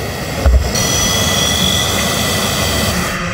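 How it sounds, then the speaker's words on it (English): Loud, steady aircraft-like engine roar from an autonomous GPS-guided delivery drone in flight, a continuous broadband drone holding level throughout with one brief low thump near the start. "These are effectively drones, but there's no reason that they can't be used as delivery vehicles."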